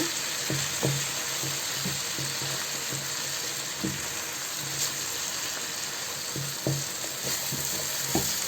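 Chicken pieces sizzling and frying in a pan for chicken kabsa biryani, a steady hiss with soft, irregular knocks from stirring or turning, close and continuous, no talking.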